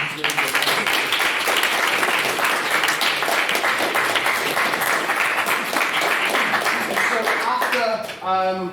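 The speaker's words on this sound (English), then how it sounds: "So I want another round of applause for all the candidates" A crowd gives a round of applause for election candidates, sustained dense clapping that fades near the end as a voice begins to speak.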